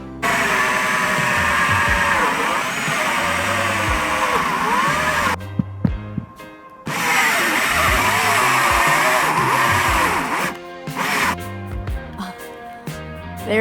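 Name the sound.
power drill drilling a hole through a roof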